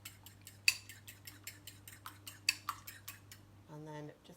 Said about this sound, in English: just whisk up that egg like so